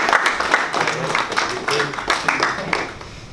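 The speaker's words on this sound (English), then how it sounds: "a little bit of a clap and congratulations." A team claps in congratulation at a football club gathering, a loose patter of hands close by, steady through the short stretch with murmuring voices mixed in.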